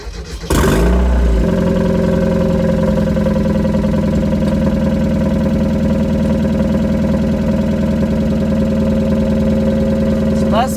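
A Mazda Miata engine cranks briefly and fires up, then settles into a steady, loud, close idle that keeps running for several seconds.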